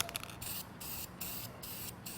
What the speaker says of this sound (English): So I just want to start spraying here, and as mentioned, we don't have to use a primer on this.